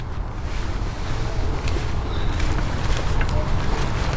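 Outdoor south wind buffeting the microphone, a steady low roar and rumble that runs unbroken throughout, close and fairly loud.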